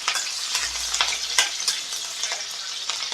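Cumin seeds, asafoetida and green chilli frying in hot oil in a home kitchen: a steady close sizzle with crackling pops throughout, no voices.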